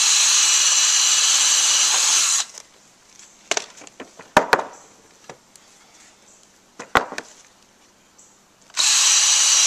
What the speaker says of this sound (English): I'm definitely going to pre-drill for all of this because it is very prone to splitting out.